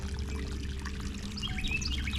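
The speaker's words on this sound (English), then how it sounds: "Looks like we got a nice bedrock stream channel cutting down to the creek down there" Small stream trickling over a bedrock channel down toward a creek, a steady close wash of running water with faint birdsong on top and no talk.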